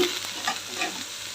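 A spoon stirs bottle gourd curry in a hot pan, a soft steady sizzle with a few gentle scraping strokes, close and continuous without talk.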